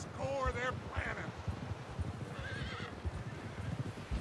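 Horses in Red Dead Redemption 2 neigh and whinny in shrill, wavering bursts over a steady clip-clop of hooves, loud and close with game ambience beneath.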